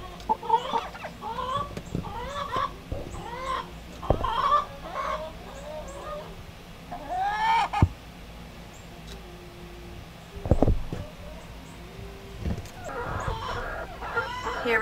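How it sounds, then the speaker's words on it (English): A hen sitting in a nest before laying eggs on a small farm makes soft, repeated clucks and short murmuring calls, close by and in irregular bursts, with quiet background noise between them. "And we have a chicken in a nest."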